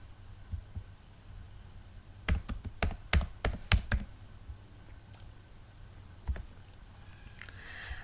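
Keys clack on a computer keyboard in a quick burst of about eight crisp strokes, close and clear over a faint room hum, with a couple of stray taps after; no talking.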